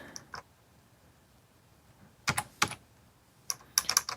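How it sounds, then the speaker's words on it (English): Bursts of computer keyboard typing, a few quick clicks early then two dense clusters of keystrokes later, close and fairly quiet with no talk. "let's go ahead and type in"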